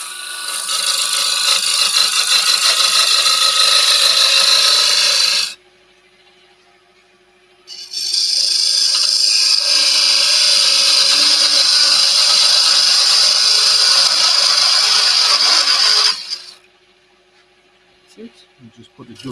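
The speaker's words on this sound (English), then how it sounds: "turn the parting tool over a wee bit, just so I can put the dovetail in there" Parting tool cutting into olive ash on a wood lathe while putting a dovetail on a small box blank: two loud, sustained scraping rasps, about five and eight seconds long, separated by a quiet gap, with a faint clatter at the end.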